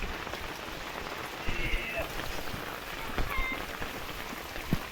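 Heavy rain falls steadily on surrounding surfaces outdoors, a constant patter with a few louder drops and splashes.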